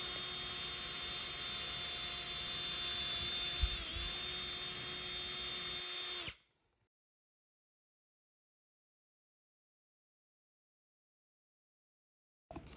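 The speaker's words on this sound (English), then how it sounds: "I drilled through both the top and bottom canvas carriers at the same time" A power drill bores through stacked wooden top and bottom canvas carrier boards for an H-frame wall easel, giving a steady, close whining drone for about six seconds before cutting off into silence.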